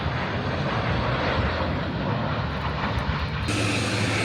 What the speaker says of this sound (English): let's hang out here a second and see if we can see a plane land